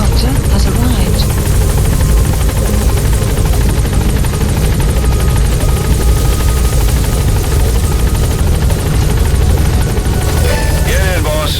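Support helicopter in Metal Gear Solid V: The Phantom Pain, a loud continuous rotor thrum and engine whine filling the whole stretch, close and steady, with radio voices talking over it.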